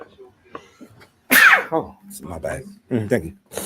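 A single loud sneeze bursts out in the middle of casual conversation, with people talking just before and right after it.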